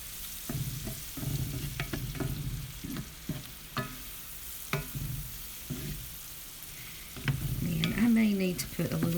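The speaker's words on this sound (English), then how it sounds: "we're just going to mix this in really good with the onions" Spoon stirring a flour-and-lard roux into onions in a pot, with intermittent scraping strokes and soft sizzling, close and fairly quiet, and a louder clatter of the utensil toward the end.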